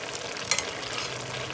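An egg and cauliflower curry with potato, tomato and yogurt sizzles steadily in a pan as it is stirred. A brief scrape of the spoon rises above the close, continuous frying hiss.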